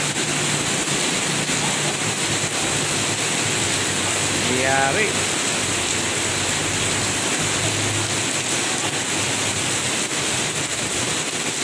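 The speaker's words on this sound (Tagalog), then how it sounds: "Ang lakas ng ulan" Heavy rain pours steadily on Holy Wednesday afternoon in the Philippines, a dense broadband roar that stays loud and constant throughout, with someone talking briefly over it.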